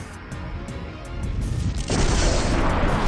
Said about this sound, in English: the sound of an explosion hits our ears